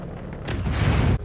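In the space game Star Citizen, a torpedo strikes a Constellation ship with a loud, deep explosive boom that swells over about a second and then cuts off abruptly.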